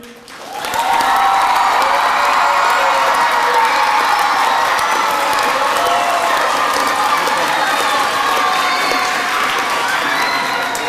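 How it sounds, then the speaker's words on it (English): Crowd of children cheering and clapping loudly for a school principal at a holiday Gingerbread Express event, a sustained burst of applause and shouts rising within the first second and holding steady. "Can you join me in making a lot of noise and clapping your hands"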